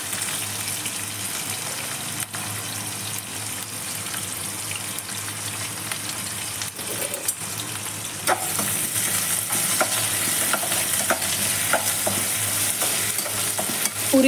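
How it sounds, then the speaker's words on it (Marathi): Onion and curry leaves frying in a pan give a steady hiss that grows louder partway through, with intermittent clinks and scrapes of stirring, no one talking. "तर इथे घेतला मी कांदा टाकून घेते. कढीपत्ता पण टाकून घेते मी."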